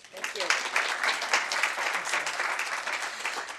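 An audience at a leadership institute graduation and recognition event breaks into applause, a quick swell of many hands clapping that holds steady, with a little talk mixed in.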